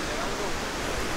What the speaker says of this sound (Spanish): Ahí está la cascada.